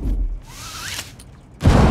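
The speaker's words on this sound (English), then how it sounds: "Frag grenade out." A frag grenade in the Rainbow Six Mobile game bursts with a sudden loud, broad blast near the end, after a quieter stretch of game sounds and a brief rising whine.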